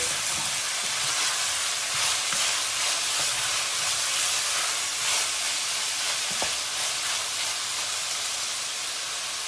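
Peppers sizzle and hiss steadily in a hot pan over medium heat, with occasional scraping as they are stirred.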